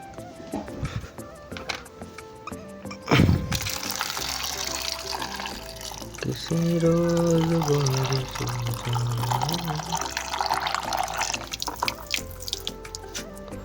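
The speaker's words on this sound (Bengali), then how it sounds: "এখন এই আমগুলোকে আর একবার ধুয়ে নেবো" Mangoes are rinsed under a running tap in a sink, a steady close rush of splashing water that starts after a few seconds and carries on to the end, with a voice talking over it.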